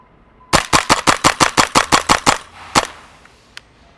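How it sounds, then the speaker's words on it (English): An Elite Force H&K MP7 gas blowback airsoft gun fires a rapid string of about a dozen sharp, evenly spaced cracks, followed by one more single shot and a faint click. "let's shoot off a couple more rounds"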